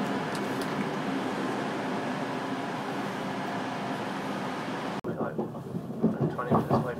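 A Virgin passenger train bound for London Euston runs on the rails near Manchester, heard from inside the carriage as a steady muffled rumble and whoosh, then becoming more uneven with faint clatter toward the end.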